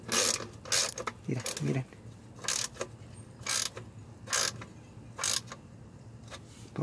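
A ratchet tightens the bolts on a car's automatic transmission pan, bursts of quick clicking strokes repeating about once a second, close and crisp, with someone briefly speaking Spanish near the start.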